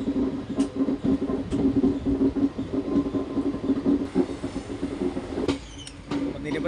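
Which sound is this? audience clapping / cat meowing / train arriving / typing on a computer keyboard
train arriving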